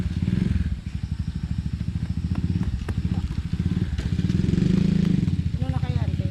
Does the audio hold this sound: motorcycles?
yes